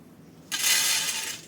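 Crispy fried besan boondi pearls crunch and rattle in a sudden bright burst that starts partway in and continues steadily, close and fairly loud, with no talking.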